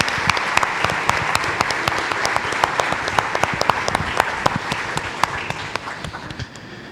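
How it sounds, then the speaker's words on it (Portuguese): Sustained applause from a church congregation after a closing prayer, dense many-handed clapping with sharp individual claps standing out, steady and loud for several seconds before tapering off. "Uma salva de palmas."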